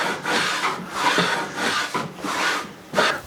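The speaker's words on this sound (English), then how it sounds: "I'm just going to hit the inside of this with a bit of machine wax just to help it slide on our fence a bit" Machine wax rubbed by hand onto a wooden table saw jig, a close, steady back-and-forth scrubbing in repeated strokes of about half a second each.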